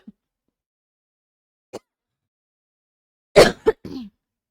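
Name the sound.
coughing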